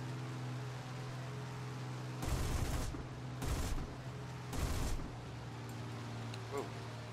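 Aircraft guns in War Thunder, fired from a P-51 at enemy planes, rattle in three short, loud bursts over a steady engine drone.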